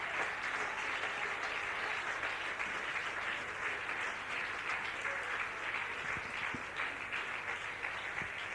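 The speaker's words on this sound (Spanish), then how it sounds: "Que el aplauso sea para Cristo" Church congregation applauding at an evangelistic service, a sustained, even roar of clapping from a large crowd heard at a distance with no break.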